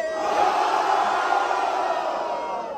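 A crowd at a street rap battle in São Paulo roars and shouts in support of a rapper's rhymes, a loud continuous wall of cheering voices that tapers slightly at the end.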